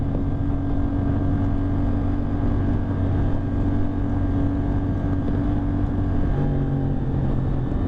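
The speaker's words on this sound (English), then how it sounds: "Oh yeah, you can definitely hear the engine." A CFMoto 450SS motorcycle engine running steadily while riding, a constant loud drone with wind buffeting the microphone, no talking.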